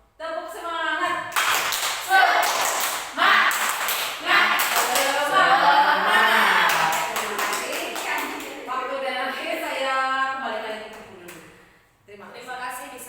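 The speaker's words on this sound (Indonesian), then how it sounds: "saya minta lagi untuk tepuk semangat." A group does rhythmic tepuk semangat clapping at an Indonesian teachers' session on positive school culture, with bursts of patterned claps mixed with a voice speaking over and between them.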